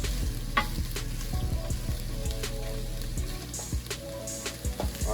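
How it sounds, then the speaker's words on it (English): A cabbage mix sautés in oil in a pan for egg rolls, giving a close, steady sizzle broken by the knock and scrape of a spatula stirring now and then, with no one speaking. "we're just going to saute our cabbage mix for about a minute"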